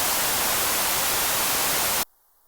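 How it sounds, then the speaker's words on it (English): Broadband white noise shaped by an SSL-type EQ plug-in, a steady loud hiss that fills the spectrum for about two seconds and then cuts off abruptly into near silence. "we start off with white noise with the fancy EQ on it."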